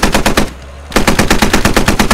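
Rapid, loud machine gun fire in a combat video game, with two rhythmic bursts of close, punchy shots split by a short pause.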